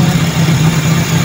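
A Toyota Corolla with a carbureted 4AF engine idles just after a cold start, a loud, close, steady low hum with an even pulsing beat and no revving.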